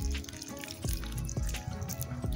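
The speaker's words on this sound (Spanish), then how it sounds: "Simplemente la mojamos, que toda la tierra quede bien empapada" Water is poured onto potting soil in a plant pot until it is soaked, giving soft, irregular splashing and dripping with gurgling trickles, fairly quiet and close with no talk.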